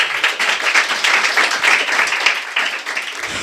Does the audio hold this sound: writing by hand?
no